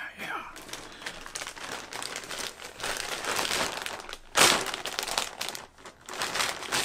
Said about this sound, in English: It's not always that easy ripping some plastic, you know what I mean?